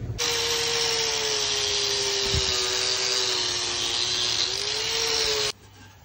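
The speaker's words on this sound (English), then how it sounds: "Let's clean it off with the wire wheel." A power wire wheel grinding rust off a seized vehicle hub, a loud, steady high-pitched whirring and scraping held for about five seconds before cutting off abruptly, no talking.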